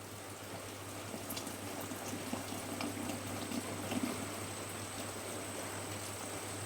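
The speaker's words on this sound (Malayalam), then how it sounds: "നമുക്ക് ഇതിലേക്ക് പാല് വീത്താം." Milk poured into a pot of Kerala jackfruit payasam, a soft, steady trickling stream heard close and faint over a low background hum.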